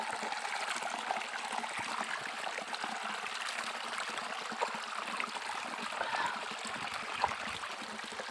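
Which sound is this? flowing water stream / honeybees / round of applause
flowing water stream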